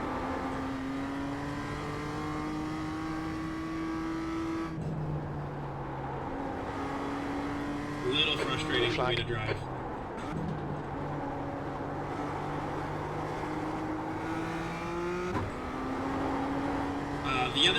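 A race car engine in iRacing revs steadily and bounces against the rev limiter, its pitch climbing and holding across several bursts while someone talks over it.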